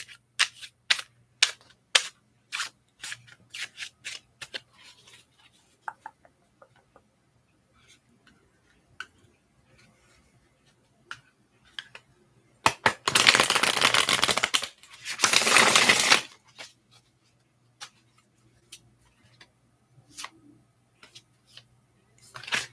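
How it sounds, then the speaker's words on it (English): A deck of cards is handled and shuffled close up in a quiet room, with sparse soft taps and flicks and then two dense riffle bursts, each lasting a couple of seconds, followed by more scattered card taps. "while I shuffle the cards."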